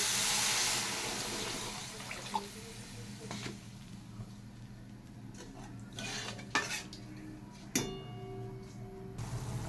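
Water is poured into a cooked-down spice masala in a pan, an initial loud hissing rush fading into quieter bubbling, followed by scattered metallic clinks and scrapes of a spoon against the pot.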